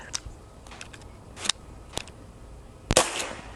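Dan Wesson 715 2.5-inch silver CO2 pellet revolver firing, several sharp cracks spaced about half a second to a second apart, the last shot the loudest, in an otherwise quiet setting.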